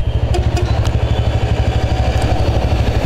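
A motorcycle rides along a road in a coastal town in Bangladesh, its engine close and loud with a steady, pulsing throb throughout.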